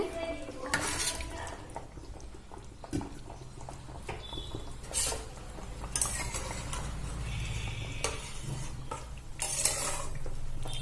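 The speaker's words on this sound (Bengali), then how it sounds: "এবার এর মধ্যে ভেজে রাখা ডিমগুলো দিয়ে দেব" Fried eggs added to a potato and egg curry in a pan and stirred, with close clinks and scrapes of a utensil against the metal pan over a soft bubbling simmer.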